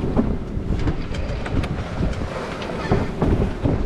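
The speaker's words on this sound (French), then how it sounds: "on a des vagues et du vent" Steady wind buffets the microphone aboard a sailboat at sea at nightfall, over a rushing wash of water, with irregular slaps and surges of waves against the hull.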